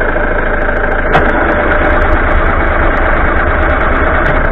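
A 1989 Ford Fiesta Ghia engine, left standing since 2014, runs loud and close with a steady rough idle and a faint ticking knock, plus a sharp click near the start.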